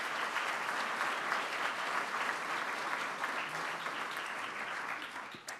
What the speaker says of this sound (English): Give all of these folks a wonderful rousing applause.